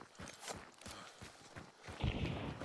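Horse hooves in Hunt: Showdown, a short run of soft rhythmic clip-clop steps at moderate distance, faint overall.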